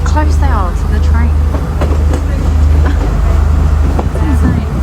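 A train crossing near the Nine Arch Bridge in Sri Lanka: a loud, close, continuous low rumble of rolling wagons runs throughout, while people talk and call out over it.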